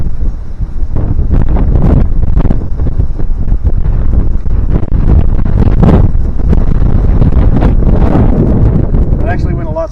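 Strong outdoor wind buffeting the microphone, loud continuous low rumbling gusts that stay heavy throughout, with a voice faintly mixed in near the end.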